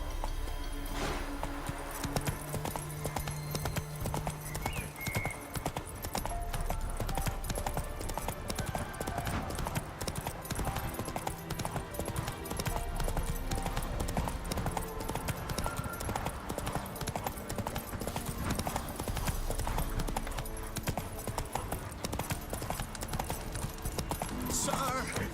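Hoofbeats of Roach, Geralt's horse in The Witcher 3, clop steadily and continuously for the whole stretch, mixed with dense game music and ambience, with a voice talking over it at times.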